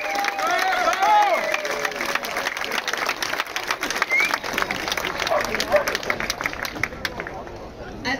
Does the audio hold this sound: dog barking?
no